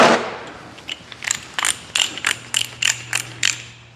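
A torque wrench ratcheting on a bolt of a 2006 Honda Odyssey V6 engine, a close run of about ten evenly spaced metallic clicks over a faint steady hum, with no talk.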